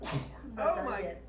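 A woman sneezes close by in a short sharp burst, with people talking right after it.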